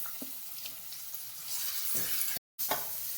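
Onion, garlic and curry leaves frying in a pan for a spicy mutton dish, giving a steady close sizzle with a few light stirring knocks and a brief gap of silence near the end.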